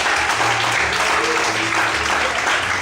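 A church congregation applauds loudly in a continuous burst of clapping, steady and dense, with a few voices faintly audible beneath it.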